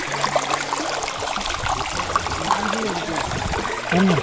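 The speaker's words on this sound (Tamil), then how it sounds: "அங்கே இந்த டேம்லேருந்து தண்ணி வெளியே இருக்குங்க" Water rushes steadily out from a dam outdoors, a continuous broad hiss and splash of flow, with a few brief, faint tonal sounds above it.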